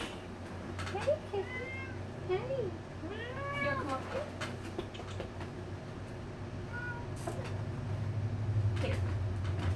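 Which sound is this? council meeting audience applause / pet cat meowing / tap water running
pet cat meowing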